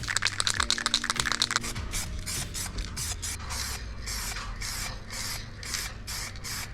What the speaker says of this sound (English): Time to put on some black spray paint.